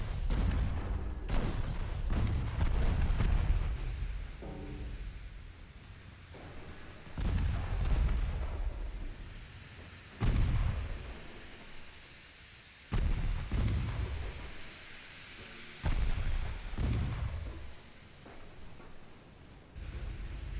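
Naval artillery from battleship turrets in Ultimate Admiral Dreadnoughts fires in heavy booming salvos, each a loud deep blast with a rumbling decay, repeating every few seconds over a constant low battle drone.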